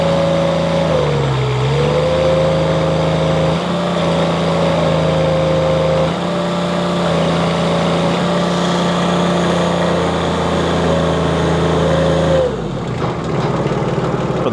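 Engine powering a Wolfe Ridge IC-16 infeed hopper runs loud and steady at wide-open throttle, dipping briefly, then holding a strained drone before falling back toward idle.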